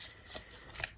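Tarot cards being shuffled for a reading, a brief soft riffle of cards with a couple of light flicks and a sharp snap at the end, quiet and close.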